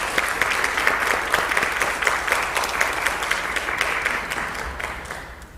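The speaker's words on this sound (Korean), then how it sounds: "우리 이청광 목사님, 한정희 전사님 잠깐 자리에서 일어나 주실 때 여러분들께서도 가정에서도 박수로 또 맞아주시면 감사하겠습니다." Steady applause from a church congregation welcoming guests during a Sunday worship service, many hands clapping evenly at moderate volume for several seconds before tapering off slightly at the end, with no talking over it.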